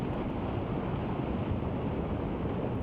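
Sea waves wash over smooth pebble beach stones at Wando, a dense, steady rushing wash that stays loud and continuous, with no voices.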